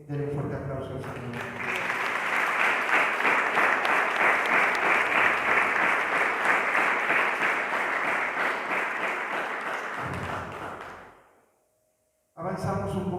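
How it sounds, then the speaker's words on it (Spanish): A church congregation gives the Lord a loud round of applause during a sermon, dense clapping swelling and holding for about ten seconds, then fading to silence before a preacher's voice returns. "denle un fuerte aplauso al Señor"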